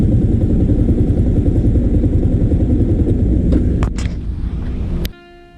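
A motorcycle idles loudly and steadily up close while being parked, then clatters briefly and cuts off, leaving near silence.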